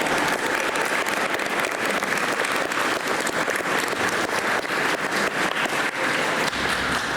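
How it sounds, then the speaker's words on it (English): Audience at a school speech event applauds continuously, a dense, even roar of many hands clapping that holds at steady loudness for about seven seconds. "Let's give all of them another round of applause."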